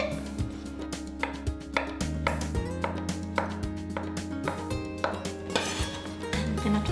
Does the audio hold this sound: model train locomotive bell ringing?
no